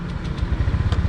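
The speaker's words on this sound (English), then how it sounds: "Let's start the bike." A moped engine on a street in Jakarta, Indonesia, running with a rough, rapid low putter that stays close and steady throughout.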